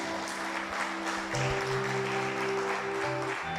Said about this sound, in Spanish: déle ese aplauso fuerte al Señor